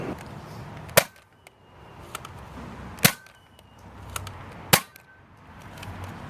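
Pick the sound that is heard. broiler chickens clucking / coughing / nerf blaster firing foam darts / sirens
nerf blaster firing foam darts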